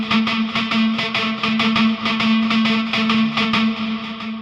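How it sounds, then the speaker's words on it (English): Ibanez lead guitar virtual instrument played through distortion, chorus and echo effects, a loud, bright picked riff of fast repeated notes over a held drone, with no voices. "So this is an Ibanez lead guitar"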